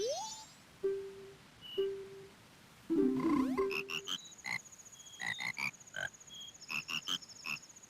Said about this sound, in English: we can hear the frog choir play now